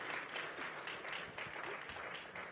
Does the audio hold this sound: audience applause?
yes